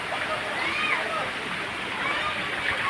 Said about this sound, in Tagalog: Yan, sapa.